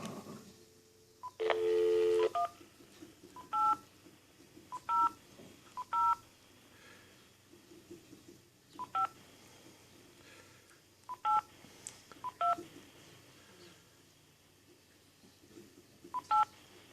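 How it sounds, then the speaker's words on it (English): Telephone keypad tones beep one at a time in an irregular sequence, each short and clear, after a louder opening tone, over a quiet hum. "I think it's dial tone."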